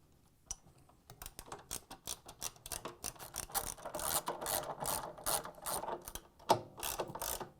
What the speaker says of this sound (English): Secure it with 3 13mm bolts.